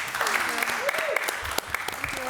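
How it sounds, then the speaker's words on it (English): An audience at a live event claps in a dense, sustained round of applause. A voice carries over the clapping. "One round of applause for us all."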